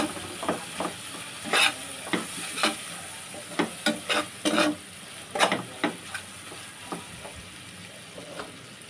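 Spicy noodle base being stir-fried with soy sauce in a pan, with a steady faint sizzle under repeated sharp scrapes and clinks of a utensil against the pan, irregular and close.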